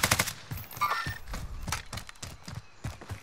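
Rapid bursts of gunfire in Call of Duty Warzone, sharp repeated cracks in quick clusters, fairly close and loud, with scattered clatter between volleys.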